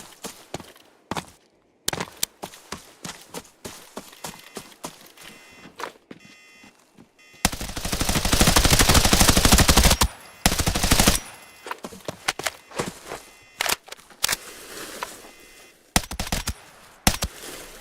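Gunfire in the shooter game Arena Breakout Infinite: sharp single shots and short bursts, then a long sustained automatic burst, followed by more scattered shots and footstep-like clatter, loud and close.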